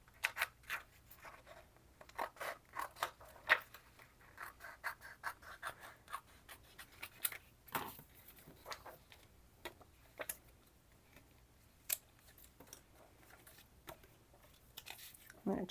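Scissors snip around a template through a paper panel for a junk journal craft kit, a series of faint, close, irregular cuts.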